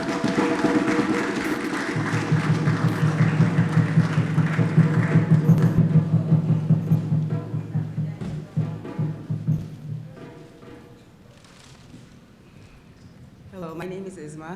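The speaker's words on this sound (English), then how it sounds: "Let's give her a round of applause as she comes." Audience at a college lecture in Queens, New York, applauds for several seconds, the clapping fading out toward the end as a voice begins to speak.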